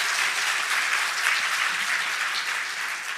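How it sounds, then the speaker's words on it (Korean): Dense, steady applause from a church congregation giving praise to God, a continuous wash of many hands clapping close by and filling the whole stretch without a break. "우리 하나님께 영광이 박수 올립니다."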